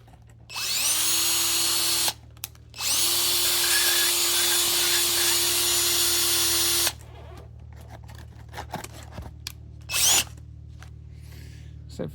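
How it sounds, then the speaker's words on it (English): A power drill whines loudly in two sustained runs, with a brief gap between them, as it bores out a rivet on the soft top of a 1990-2005 Mazda Miata MX-5, followed by quiet handling clatter. "get in the center of it and then drill in and drill the center out"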